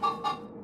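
Chickens in the Minecraft Story Mode video game give two quick clucks in succession, close and clear, then a soft fading tail.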